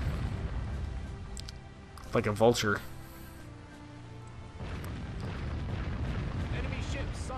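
Ship cannons boom in Warship Gunner 2 as a heavy rumbling volley fires, then a second burst follows. Someone talks briefly in between.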